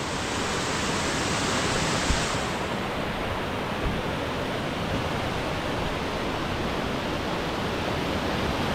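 Water gushes under pressure from leaks in the damaged dam at Velas village, whose embankment stones are coming loose, making a loud, steady, unbroken roar close by.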